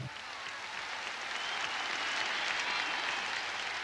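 An audience at a volleyball match keeps up a steady wash of applause. The sound is broad and fairly distant, and it swells slightly in the middle with no clear single claps standing out.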